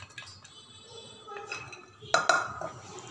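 Boiled horse gram being tipped into a mixer jar, giving a few brief metallic clinks and scrapes of a spoon on the jar, with one louder clatter toward the end and quiet kitchen background throughout.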